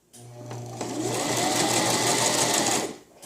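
A Brother JX2517 sewing machine stitches a buttonhole in one close, loud burst of rapid mechanical whirring lasting a few seconds, starting after a soft motor hum and stopping cleanly.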